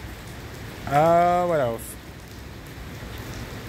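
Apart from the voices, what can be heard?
heavy rain pouring down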